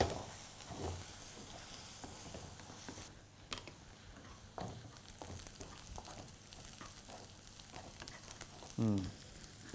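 Onions fry in a pan for sarson ka saag, a soft continuous sizzle and hiss broken by light stirring and scraping. A short louder clatter comes near the end.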